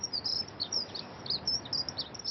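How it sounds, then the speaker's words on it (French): Small birds chirp and tweet in rapid, repeated high calls above the rooftops of Paris, moderately close over a steady low background hum. "Et l'oiseau, vers où s'envole-t-il?"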